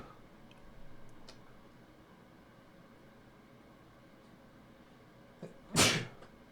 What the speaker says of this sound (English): A little bit of a sneeze there.